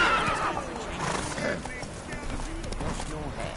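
In The Witcher 3 video game, a horse whinnies loudly at the start and then gallops with rapid hoofbeats, while someone talks over the action.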